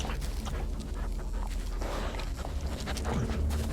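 A dog searching around in a game, its panting breaths and faint whimpers close by over a steady bed of ambient game sound, with soft footfalls mixed in.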